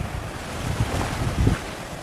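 Sea waves roll onto Nagore beach, a loud continuous surf wash with heavy wind buffeting the microphone and swells cresting around the middle, and no voices.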